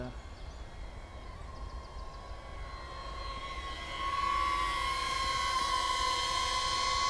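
An aircraft approaching to land, its engine drone growing louder and brighter about halfway through with a sustained whining tone, heard from outdoors at a distance amid steady background rumble.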